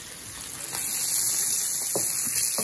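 Burgers with onions sizzle loudly on a griddle in the style of White Castle Oklahoma onion burgers. The frying hiss is steady and close, with a few brief scrapes and clicks of a spatula, and no talk.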